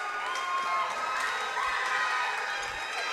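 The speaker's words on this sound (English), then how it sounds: "And this crowd is jacked up." A gym crowd at a girls' varsity high school volleyball match cheers and shouts steadily, a sustained roar of many voices with scattered whoops and some clapping.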